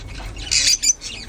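Birds squawk loudly inside a bird shop stocked with cages and supplies, a couple of sharp, bright calls close by over a low background rumble.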